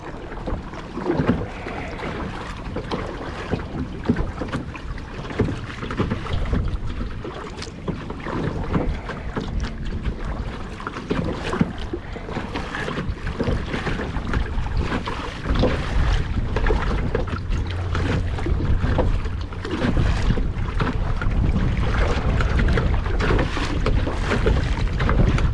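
Steady wind buffeting the microphone while paddling a kayak against the wind near north Titusville, a loud continuous rushing roar with water sloshing against the hull, growing stronger in the later part.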